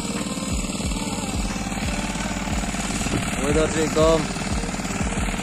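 A machine ploughs a hillside field with a steady, rhythmic engine thumping that pulses at a regular beat and stays close and loud throughout. Someone talks over the engine.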